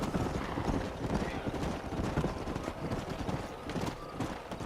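Hooves of several horses clip-clopping in the video game Red Dead Redemption, a busy uneven run of close hoofbeats with occasional snorting, fairly loud throughout.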